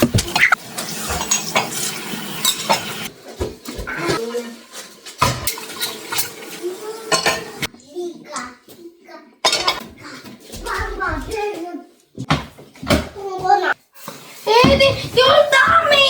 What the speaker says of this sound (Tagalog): Hugas muna tayo ng pinggan bago tayo umalis.